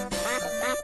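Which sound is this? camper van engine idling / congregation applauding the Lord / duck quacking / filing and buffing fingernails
duck quacking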